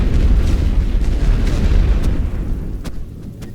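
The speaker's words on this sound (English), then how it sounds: "Just hear mortars firing everywhere." Mortars firing during a World War I battle in The Great War: Western Front, a dense rolling barrage of deep booms that thins toward the end into a few sharper separate thumps.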